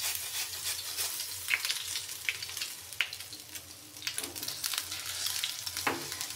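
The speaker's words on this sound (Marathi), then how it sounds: "जिरे लाल झालेले आहेत, हिरवी मिरची घालूया, व्यवस्थित परतून घेऊया हिरवी मिरची।" Green chillies and cumin seeds sizzle as they sauté in hot oil in a pan for a fasting-day dish, a continuous close crackle with sharp clicks of a spoon stirring now and then, and no voices.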